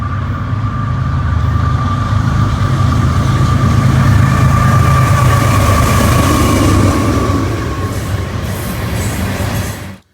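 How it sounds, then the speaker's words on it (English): A Union Pacific coal transfer train led by Norfolk Southern GEVO and C6M locomotives rolls past close by, a loud continuous rumble of wheels and cars with a faint squeal, fading slightly toward the end. "This is a Union Pacific coal train transfer train."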